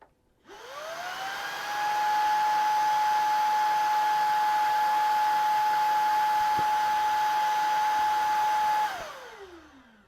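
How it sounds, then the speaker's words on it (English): A Shark Vertex Pro cordless stick vacuum on medium mode spins up, holds a loud, steady high-pitched motor whine with airflow hiss for about eight seconds, then winds down, heard alone. "So that was medium on the Vertex Pro."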